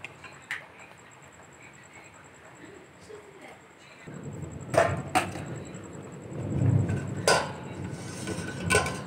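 A plate set over a pot of spicy ghugni, several sharp clinks of metal and crockery against a simmering background, fairly close, with a faint steady tick throughout and no talk.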